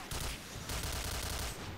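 Gunfire in the shooter video game Point Blank, a dense burst of rapid automatic shots crackling loudly and continuously, with a brief dip partway through.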